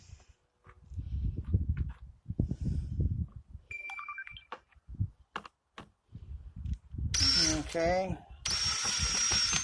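A power drill snugs screws on a Ridgid wet/dry vacuum in a few short, close whirring bursts near the end, after a stretch of someone talking and some faint handling clicks.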